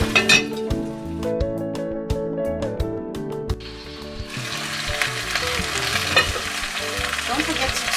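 Chicken fries in a pot for curry while a spoon stirs it, giving sharp metallic clinks and scrapes at first. A thick, steady sizzle then swells up and carries on close and loud to the end.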